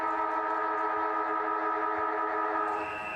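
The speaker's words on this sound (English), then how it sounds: "Siren sounds to kick off this round 7 match" A long steady siren sounds at the start of a round 7 Indigenous round NTFL Men's Premier League Australian football match between the Darwin Buffaloes and Wanderers Eagles in Darwin, a loud sustained wailing tone over crowd ambience with no talk.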